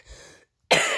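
A single short cough from a person, close and abrupt, following a faint breathy sound and a moment of silence.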